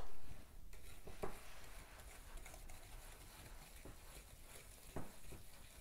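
Red velvet brownie batter being stirred in a bowl, with a steady soft swishing and occasional light knocks of the utensil against the dish, close and alone with no talk.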